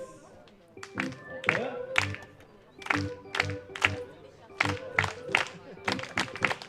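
Spectators at a German Baseball Bundesliga game, Mannheim Tornados against Haar Disciples, break into rhythmic group clapping, sharp claps in a steady beat rising in energy, with crowd voices and a low drum-like thump under it.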